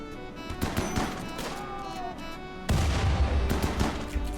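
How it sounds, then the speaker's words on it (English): Grenade launches in a video game: muffled thumps and bursts with a heavy low boom partway through, followed by a louder rumbling stretch of explosions. "Let's launch grenades."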